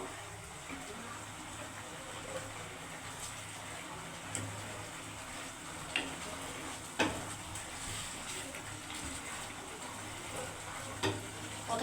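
Bhola fish pieces added to hot mustard oil fry with a steady, dense sizzle and crackle, with occasional sharper pops and spatters close by; no voices.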